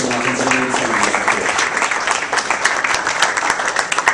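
Sustained crowd applause at a Vodacom Tanzania event honoring the M-Pesa service, dense steady clapping throughout with a faint voice underneath at the start.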